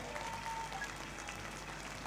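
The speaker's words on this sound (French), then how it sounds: "On peut les applaudir, s'il vous plaît." Audience applause at a regional seniors' video game show final in Toulouse, a soft, distant wash of clapping held steady throughout.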